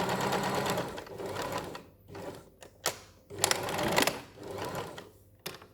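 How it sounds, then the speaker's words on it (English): Sewing machine stitching a 5-centimetre section of a cushion seam, running in close, loud bursts with short pauses between runs and brief clicks as it stops and starts for a forward-backward stitch. "I'm just going to do this 5 centimetre section, and then I'm going to stop and do my forwards backwards stitch."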